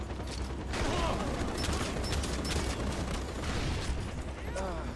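Gunfire and grenades in the Far Cry 4 video game make a busy clatter of rapid shots, mechanical clicks and muffled blasts, with a voice partly audible over the action.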